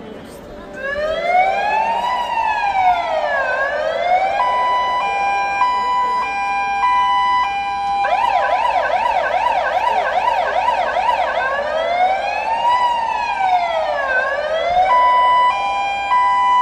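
Fire engine sirens sounded at a football stadium memorial for two firefighters, several loud wailing and rising-falling tones overlapping continuously for the whole stretch.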